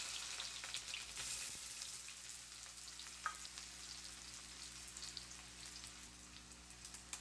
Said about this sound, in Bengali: সরিষার তেলটা ভালো করে গরম হলে এর ভেতরে দিয়ে দেবো পেঁয়াজ,